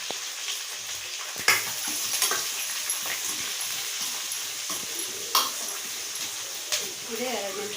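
Onion, curry leaves and green chili fry in hot oil in a pan, giving a soft, steady sizzle broken by a few sharp clinks and stirring knocks. A voice talks quietly underneath.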